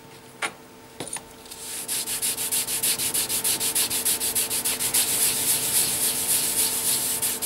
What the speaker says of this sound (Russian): Финишную полировку произведу с помощью непонятно почему называемой пасты ГОИ